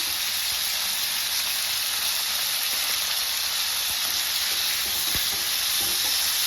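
Tomato chutney with tamarind and salt fries in a pan, a dense, even hiss of sizzling with a few faint scrapes and clicks of stirring underneath.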